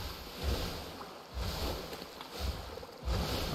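Boat sailing across open water in a survival video game, with a steady wash of water and wind noise that swells in rhythmic surges about every second, moderately loud and continuous, with no voices.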